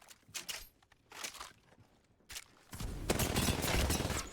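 Bursts of R-99 submachine gun fire in Apex Legends, a few short volleys followed by a longer sustained loud burst, with no talking.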